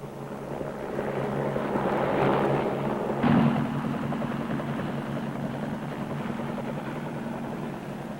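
A Marine Corps helicopter in flight, carrying men and gear for a helicopter squadron. A steady engine and rotor drone rises and holds throughout, with a sharp brief surge near the middle, moderately loud with no talk.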